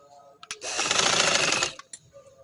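A sewing machine stitches a patiala salwar in one steady, loud burst of about a second, with faint clicks of the machine before and after.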